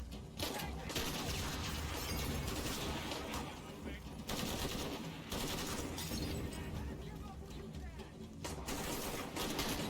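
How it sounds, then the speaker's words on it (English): Gunfire from a shotgun in Shadow of the Tomb Raider, heavy repeated blasts mixed with game noise and clattering, fairly dense throughout, with a voice speaking over parts of it. "let's test out the shotgun"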